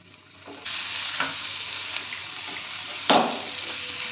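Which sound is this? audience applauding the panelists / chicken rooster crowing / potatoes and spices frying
potatoes and spices frying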